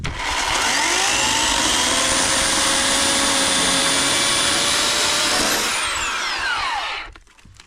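A saw cuts through soft, rotten ash wood for firewood, a loud, steady high whine holding for about six seconds before the pitch shifts and the motor winds down to silence.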